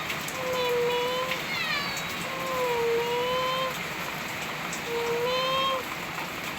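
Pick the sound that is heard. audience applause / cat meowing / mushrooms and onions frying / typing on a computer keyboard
cat meowing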